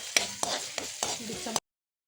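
Crushed onion and garlic frying in coconut oil for a Kerala prawn dish, stirred in a pan with five or six rhythmic scraping strokes over a constant close sizzle, ending abruptly in silence.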